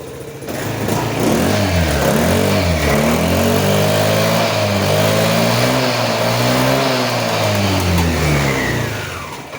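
Malaguti Madison 250 scooter engine, running again after an injector and ECU replacement, revving up and down in a steady loud series of throttle blips close by, with no talk.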